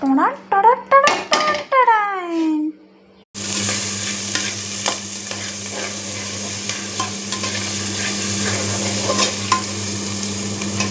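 Onions sautéing in a pan for a Tamil home-cooked dish, a steady bright sizzle with occasional stirring scrapes and clinks, close and continuous after a brief stretch of a high clattering, squeaky sound at the start.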